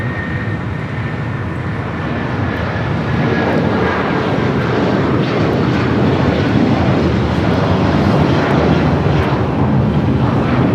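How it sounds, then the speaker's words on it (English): A United Airlines Boeing 757-200 takes off at LAX, its jet engines building into a loud, sustained roar that swells steadily, with a thin whine heard early on. "This takeoff is United Airlines 1939, taking off to Newark on the 757-200."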